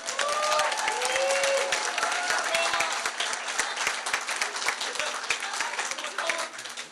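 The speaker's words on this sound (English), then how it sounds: "Round of applause for them." A large crowd at a primary election night celebration claps loudly and continuously with some cheering mixed in, holding steady before easing slightly at the end.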